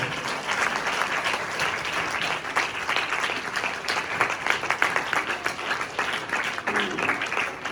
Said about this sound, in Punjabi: ਹੱਥ ਉੱਪਰ ਨੂੰ ਚੱਕ ਕੇ ਤਾੜੀ ਮਾਰ ਕੇ ਸਵਾਗਤ ਕਰਾਂਗੇ